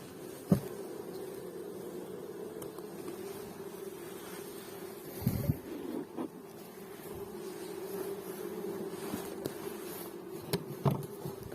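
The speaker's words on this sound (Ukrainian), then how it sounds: "Але щось дуже багато бджоли лазить на стінках за вуликом." A continuous low buzzing drone of many honey bees at a hive, close and steady throughout, with a few faint knocks and taps.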